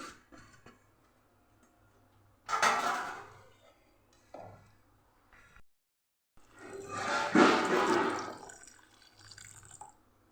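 Water pours in two bursts into a metal pressure cooker holding sweetcorn, splashing and gurgling, separated by a short quiet pause.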